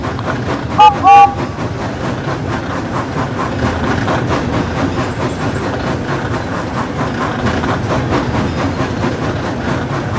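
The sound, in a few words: train moving away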